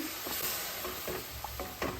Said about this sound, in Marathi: आता ही ग्रेव्ही चांगली परतून घेऊया